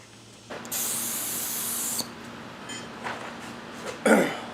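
An HVLP spray gun sprays lacquer in a steady, close hiss lasting about a second and a half, then cuts off, leaving faint clicks and a short sharp burst of spray at the end.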